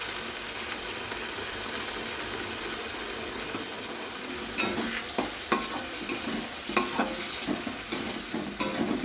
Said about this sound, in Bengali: দিয়ে এবার নাড়তে থাকবো।